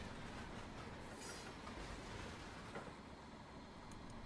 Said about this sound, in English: Oh, hello, freight train. We have a Freightliner there.